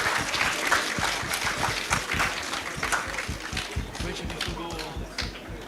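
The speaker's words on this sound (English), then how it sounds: "Come on, give yourself an applause." Audience at the IBOH 2024 opening ceremony claps in welcome, a dense, continuous round of applause with sharp individual claps that carries at steady loudness, thinning slightly toward the end.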